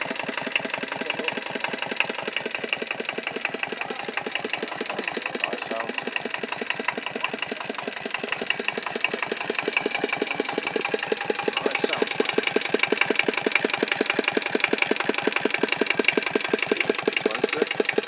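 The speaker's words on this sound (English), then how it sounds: "it's a small Kubota, but it runs nicely." Small Kubota stationary diesel engine idling at a swap meet, a steady rapid knocking chug that runs evenly and close throughout, with someone briefly speaking over it.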